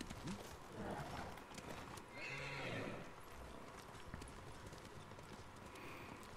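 A horse gallops in the video game Ghost of Tsushima, its rhythmic clip-clop of hooves running with a brief whinny, played quietly under a little background talk.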